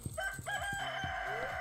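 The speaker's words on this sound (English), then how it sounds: "The chickens are Patty and Aretha." Chickens in the farming video game Stardew Valley cluck and crow with a rooster-like call, a steady run of sharp repeated beats under a sustained tonal line, clear and up front.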